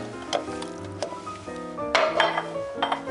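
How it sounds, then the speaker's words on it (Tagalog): Pork tails are dropped into a metal cooking pot over a low flame, giving close clinks and knocks of metal with a few soft thuds and a squishy rattle. "ilagay po natin yung mga buntot ng baboy"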